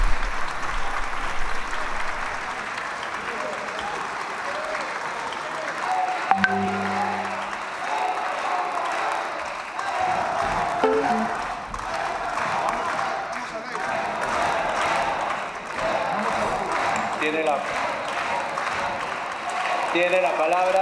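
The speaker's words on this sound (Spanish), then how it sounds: "Y de pronto los congresistas de Fuerza Popular comenzaron a aplaudir." Members of the Fuerza Popular party in a congressional chamber break into sustained applause, a steady dense clapping that runs throughout, with voices talking over it at times.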